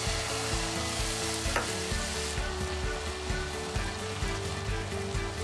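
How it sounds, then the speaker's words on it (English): Shimeji mushrooms stir-fried in oil for a Chinese-style mixed rice with pork and chestnuts: a steady, close sizzle runs throughout, broken by repeated scraping and tapping of the utensil against the pan. "Distribute the oil and stir fry until the mushrooms are slightly softened"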